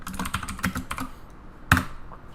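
Rapid keystrokes clatter on a computer keyboard in a quick uneven burst, then a pause and one louder, sharper key press, close and with no voices.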